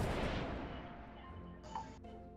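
A cannon fires in the online minigolf game Golf It, a loud booming blast that starts the clip and slowly fades, with a few smaller game sounds toward the end.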